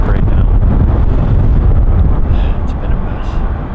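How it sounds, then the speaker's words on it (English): Strong wind of about 20 mph buffets the microphone outdoors at a hunting spot, a loud steady roar that dips slightly toward the end. "with this wind, it's like 20 miles per hour gusts"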